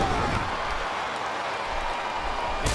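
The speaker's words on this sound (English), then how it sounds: "Sounds like this capacity crowd has something on their mind" Steady roar of a capacity arena crowd in the WWE SmackDown vs Raw 2007 wrestling video game, a loud, continuous wash of cheering noise with no clear breaks.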